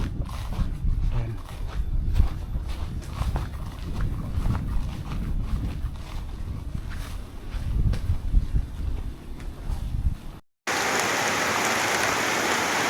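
Rain pours over a remote, ancient Javanese village deep in a forest, a dense steady patter that runs under other rustling village sounds before settling into an even, continuous hiss.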